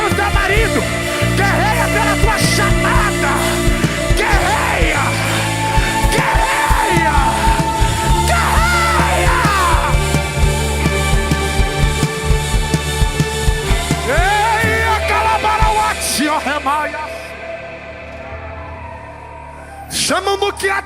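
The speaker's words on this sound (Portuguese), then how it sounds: "Eu ouço gritos espirituais aqui." Congregation shouting and yelling during an evangelical church service, loud echoing voices and cries piling over music and a preacher's voice, dropping off briefly near the end.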